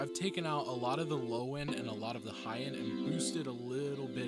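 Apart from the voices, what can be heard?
No everyday noise stands out behind the speech.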